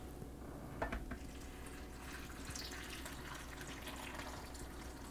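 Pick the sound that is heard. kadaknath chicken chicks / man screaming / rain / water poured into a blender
water poured into a blender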